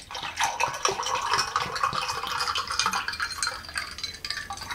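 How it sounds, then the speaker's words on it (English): Water poured into a glass, a continuous splashing trickle with bright clinking texture, steady and close for several seconds with no talk. "Put some water in a glass."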